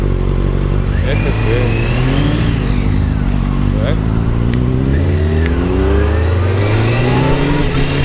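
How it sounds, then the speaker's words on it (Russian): Motorcycle exhaust revving loudly while riding along an embankment road, engine pitch sweeping up and down steadily over continuous traffic noise, with a voice speaking briefly. "стоит выхлоп, его хорошо слышно, особенно когда едем по набережной"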